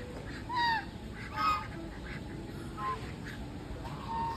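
Ducks quack a few times in short, separate honking calls over a quiet, hissy background.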